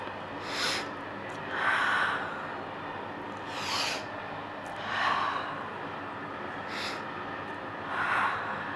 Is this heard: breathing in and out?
yes